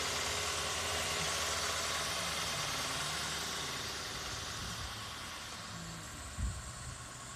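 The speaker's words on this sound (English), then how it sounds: "I got a 97 Honda Accord. It actually has a VTEC engine in it. It's actually a race engine." A 1997 Honda Accord EX with a VTEC race engine and headers idles with a quiet, even rumble that eases slightly toward the end, broken by one brief thump.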